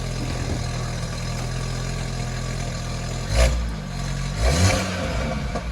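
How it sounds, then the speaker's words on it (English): A 2020 Audi A3 with a full bolt-on exhaust idles loudly and steadily nearby. It is lifted by two short revs that swell and fall back to idle. "You doing a rev?"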